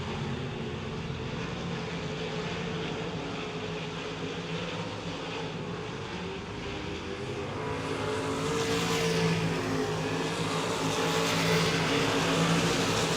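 Race cars run a heat race at URSS 81 Speedway, their engines forming a steady, continuous roar that swells somewhat louder in the second half, with no talk over it.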